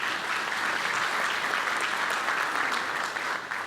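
A city audience at a State of the City address in Weslaco applauds the sponsors, with dense, steady clapping held at an even level throughout.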